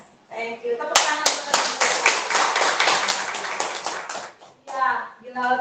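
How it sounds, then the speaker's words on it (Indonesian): A classroom of students claps in a quick, bright burst lasting a few seconds, framed by a teacher speaking just before and after, with a few sharp isolated claps at the start. "Tepuk tangan."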